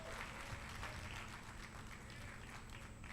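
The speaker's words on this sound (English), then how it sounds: "Round of applause." Steady applause from a ballroom community audience at a Black Pride heritage awards ceremony in New York City, a dense, continuous wash of clapping that holds at an even level throughout.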